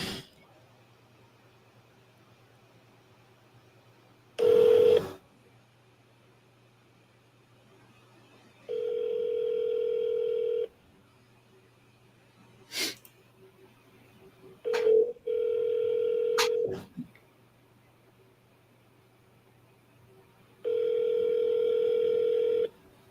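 An outgoing phone call to a seller rings out unanswered: four separate electronic ringback tones, each lasting a second or two with gaps between, over a faint steady line hum.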